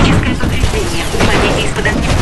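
A Titan's damage core firing during a Titanfall campaign mission, a dense, loud barrage of explosive booms and crashing impacts running continuously, with a voice talking over the gameplay.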